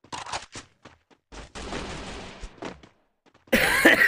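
Shotgun blasts in a mobile battle-royale shooter, a series of short sharp loud bursts separated by silences, ending in a dense noisy stretch of fire.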